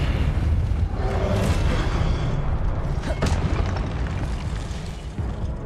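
Expelliarmus spell cast in the game Hogwarts Legacy amid a fight, a sustained loud booming burst with rumbling low end and crackling impacts, dense and close, with a brief sharp hit partway through.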